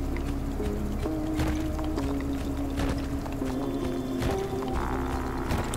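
Flowing, splashing water in the video game Dome Keeper, a steady wash of sound layered with game music tones and a few sharp clicks, moderately loud throughout.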